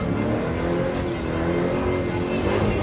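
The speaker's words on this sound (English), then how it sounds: "Right there is American muscle." American muscle car engine revving at a dragstrip, a loud, steady rumbling roar with continuous low growl and dense mid-range noise, held close with no talking.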